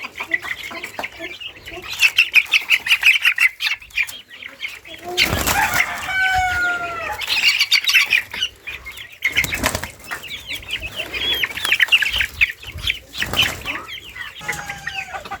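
Brahma chickens in a cage cluck and squawk loudly and close by, with bursts of vigorous wing flapping and a rooster's crow rising in the middle among the repeated calls.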